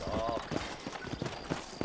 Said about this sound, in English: You ain't gonna find sturdier horses than these in all of New Orleans.